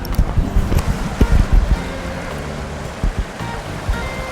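Water and gravel slosh around a gold pan as it is tipped into a tub outdoors, a steady wet swish with low knocks and splashes, loud and close.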